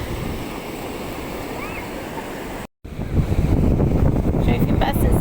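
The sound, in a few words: high sea waves breaking on the beach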